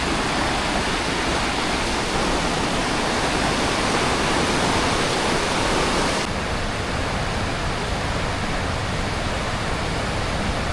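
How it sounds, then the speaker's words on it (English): Bering Falls in East Glacier: a loud, steady roar of falling water, broadband and constant throughout, heard close up with no voices. "Bering Falls, East Glacier."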